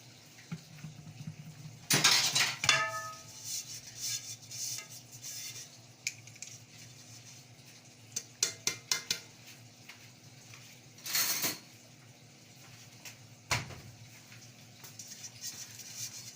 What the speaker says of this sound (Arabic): وادي الصينيه بتاعت البسيسه دهنتها زيت الحروف بتاعتها ومن تحت